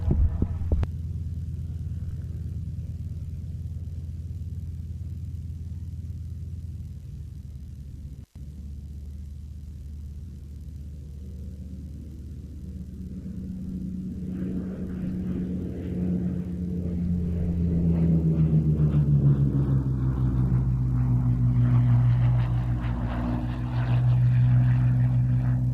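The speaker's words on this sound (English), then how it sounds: "Running in from the east, from your right, Clive Denny and the gorgeous Hawker Hurricane" Hawker Hurricane fighter flying past at an airshow, a deep throbbing piston-engine drone that rises in pitch and loudness as it approaches, with a brief click early on and no talk.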